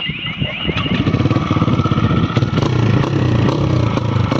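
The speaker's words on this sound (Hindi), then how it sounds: "आवाज़ सुनाता है आपको साइलेंसर की" A TVS Raider 125cc motorcycle with an Akrapovic full exhaust and dB killer fitted idles close by with a deep, throaty exhaust burble, steady and loud with slight rhythmic throbbing throughout.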